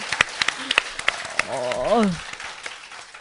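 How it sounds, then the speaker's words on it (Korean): Scattered handclaps from a small studio audience at a public broadcast recording, sharp separate claps rather than a full ovation, mixed with someone talking and a brief hum of voices. "제가 손으로 막 이렇게 하니까 여러분들이 막 박수를 쳐주시네"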